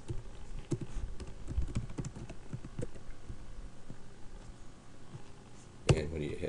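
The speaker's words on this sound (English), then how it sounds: "type this web address into the URL box at the top of your screen" Keys clatter on a computer keyboard as a web address is typed into a browser's URL box, irregular taps and short bursts close by over a low room hum, ending in one sharper louder key strike.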